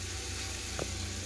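Tomatoes fry in a pan with a soft, steady hiss, with a single faint tap partway through.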